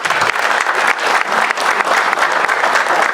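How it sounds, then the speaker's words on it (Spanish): Applause from a conference audience thanking a doctor after his talk on sugarcane nutrition, a steady dense clatter of many hands filling the room, loud and close, with no voices over it. "le damos un aplauso al doctor Leonel por su valiosa participación"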